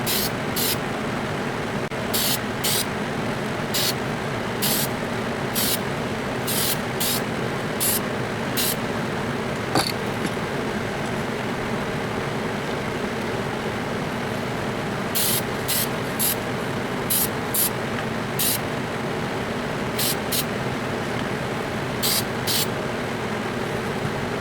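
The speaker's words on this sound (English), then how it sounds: "I'm going to hit it with a coat of gray primer." Gray primer sprays in short repeated bursts onto a small die-cast Corgi Bedford CA van model, the hiss coming in quick clusters over a steady background rumble.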